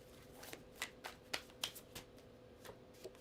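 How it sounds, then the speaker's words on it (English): Tarot cards are shuffled by hand in a series of quiet, crisp riffles and slaps. The bursts come at irregular intervals, close but faint against a soft background hum. "let me shuffle in front"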